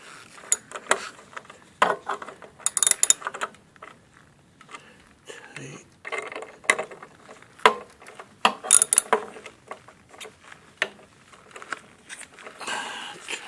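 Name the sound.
ratchet with socket tightening hex bolts on a boiler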